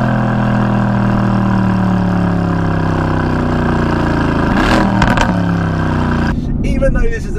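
A turbocharged Mercedes-AMG car accelerates hard, a loud steady engine drone with rising harmonics as revs climb, then a quick gear change and dip near the end.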